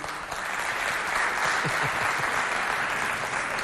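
An audience at a Chad festival show on reproductive health education applauds for the Technidef group, steady full clapping that holds evenly throughout with no talk over it.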